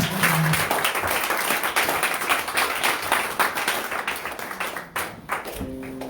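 A church congregation claps and applauds during a Sunday thanksgiving service in Baltimore, a dense, steady wash of clapping that holds loud throughout, thinning briefly near the end as a few voices and a held tone come in.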